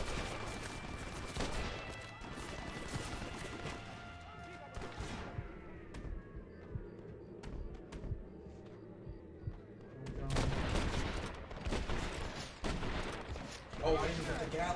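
Gatling gun firing in the Western video game Red Dead, a dense, sustained burst of gunfire heard loud in the first seconds and returning strongly near the end, with speech over it.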